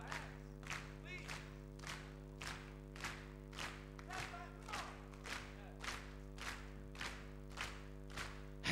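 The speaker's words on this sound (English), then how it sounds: "Come on, clap your hands." A festival audience at Eurosonic claps in a steady unison rhythm, about one clap per beat, over a constant low musical drone, fairly faint and distant.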